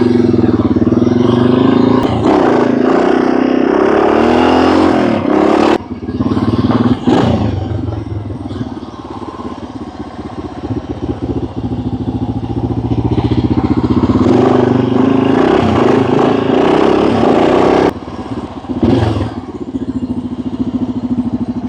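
A showroom-mint 1976 Yamaha TT500, a 500cc four-stroke single, idles and revs up close with a steady, loud throbbing drone, broken by a few brief throttle dips and mechanical clatter, and no talking.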